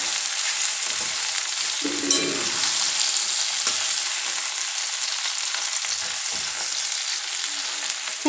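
Eggplant and potatoes sizzle and fry steadily in a hot pan, with occasional scraping stir strokes over a constant close frying hiss, no voices.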